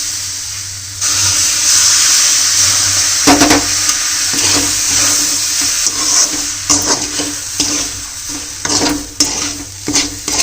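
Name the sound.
water being poured for cooking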